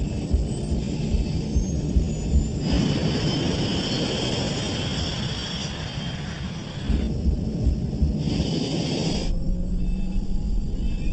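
Scandinavian Airlines Flight 686 jet rolling down a 2,400-metre runway on takeoff, a steady loud broadband engine roar and rumble that swells in bursts, heard close from the cockpit without talk.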